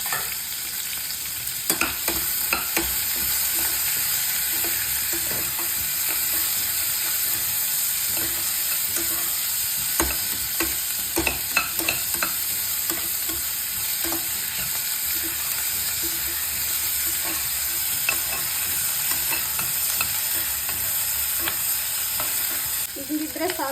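Onions fry with half a spoon of ginger garlic paste in a pan, a constant loud sizzle broken by repeated scraping and clinking as a spoon stirs the mixture, with no talking.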